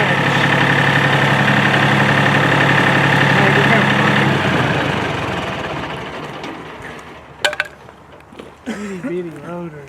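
Small loader tractor engine idling with a steady, loud mechanical drone for the first few seconds, fading away afterward as clanks and voices take over near the end.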